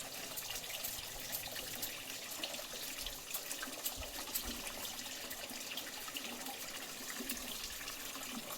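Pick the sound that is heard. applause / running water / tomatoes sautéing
running water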